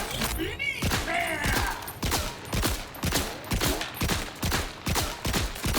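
Rapid bursts of game gunfire from a Borderlands 4 under-barrel double flintlock with twin musket barrels, about a dozen punchy, booming shots in an uneven rhythm, loud and close throughout.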